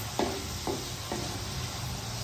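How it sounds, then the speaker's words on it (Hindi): Chilies and tomatoes frying in a pan, a steady sizzle with three quick scraping stirs of a spoon near the start, close and fairly quiet with no talking. "मिर्ची और टमाटर मैंने ऐड कर दिए हैं। अभी इसको अच्छे तरीके से करते हैं।"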